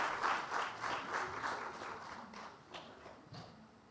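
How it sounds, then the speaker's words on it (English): An audience at a literary festival gathering applauds a guest, the claps distinct and rhythmic at first, then thinning and fading toward the end. "A round of applause for my first guest,"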